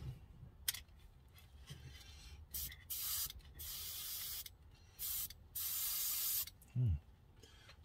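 Spray gun laying unthinned Testors bottle enamel onto a scale model auto body: several separate hissing bursts of varying length, close and fairly loud, with faint handling noises between them.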